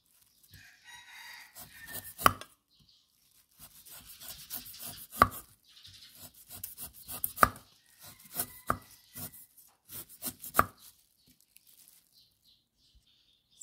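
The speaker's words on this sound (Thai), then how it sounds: "ตามหั่นกันนะเจ้า" A knife chops ingredients for Thai chicken curry in irregular bursts of sharp taps on a board, with some single louder strikes. Roosters crow faintly in the background of the rural kitchen.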